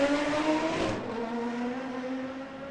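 GT4 race cars circling the Macau street circuit during qualifying, engines droning at a steady pitch as one passes and fades, moderately loud, with no voices.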